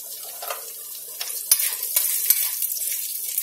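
Turmeric-tinted tempering frying in a pan for amla rice, a steady close sizzle broken by sharp scraping stirs, with no talk.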